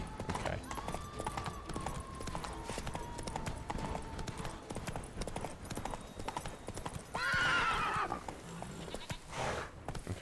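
Roach the horse clip-clops steadily through The Witcher 3, hooves tapping in a continuous rhythm over game ambience, with a brief whinny-like call near the end.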